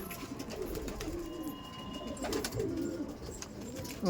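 Pigeons coo softly in a racing pigeon loft with hens present, low throaty calls repeating in a few short phrases over faint background rustle, with no talking.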